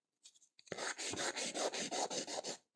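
A nail file rasps against a fingernail shaped into an almond form, giving a quiet, rhythmic series of short back-and-forth strokes, about a dozen in quick succession, heard close up and without speech.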